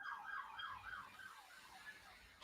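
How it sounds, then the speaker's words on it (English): Siren wailing faintly in the background, a distant warbling tone rising and falling in quick cycles and fading slightly over the few seconds, with no voices. "Was that a siren in the background?"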